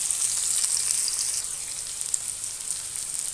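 Fish frying in a pan of hot oil, a steady bright sizzle and crackle that holds at an even level throughout, close by, with no voices.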